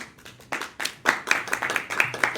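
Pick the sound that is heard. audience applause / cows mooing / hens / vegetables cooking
audience applause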